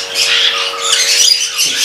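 An eclectus parrot lets out harsh, raspy squawks close by, loud and continuous for a couple of seconds.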